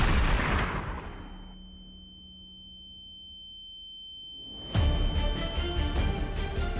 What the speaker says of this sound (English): The first shot pierced the air, narrowly missing me.